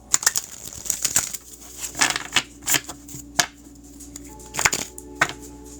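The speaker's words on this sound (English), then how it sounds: "I try to angle it lower so you can see when I shuffle the cards how they fly out." Playing cards being shuffled by hand during a live stream, a series of quick riffling bursts and flutters separated by short pauses, close and fairly quiet.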